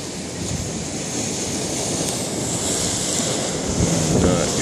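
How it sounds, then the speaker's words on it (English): Continuous lake waves surging and splashing over the Port Dover pier close by under gusty wind during a November storm flood, the wash swelling a little louder toward the end. "Yeah, she's splashing up good."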